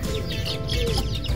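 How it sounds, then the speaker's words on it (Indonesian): A green-dyed baby chick peeps and clucks in quick, close bursts, with no talk over it. "Ini anak ayam berwarna hijau."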